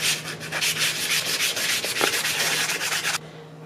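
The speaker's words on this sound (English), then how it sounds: "Now comes a lot of hand sanding." Steady, rapid rasping strokes of hand sanding on a wooden spoon, continuous and close, stopping abruptly near the end, leaving faint background hiss.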